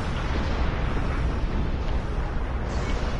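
A rumbling explosion in a Star Trek Klingon recruit game on PS4, a continuous loud, low roar lasting several seconds without a sharp single hit.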